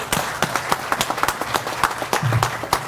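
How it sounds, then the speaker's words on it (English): Scattered applause from an audience at a Fiji Airways cocktail event in Vancouver, a brief patter of uneven claps heard fairly close. "And so please give everybody a round of applause."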